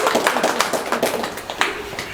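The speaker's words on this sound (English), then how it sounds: "you can clap again" A handful of audience members clap briefly at a poetry event, the claps sparse and irregular with a little background murmur, moderately close and fading quickly.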